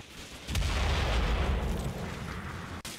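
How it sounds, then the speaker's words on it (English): A StuG assault gun fires at buildings in Combat Mission: Battle for Normandy, one heavy, low boom rolling out as a sustained rumble that fades over a few seconds. "The Stug targets buildings."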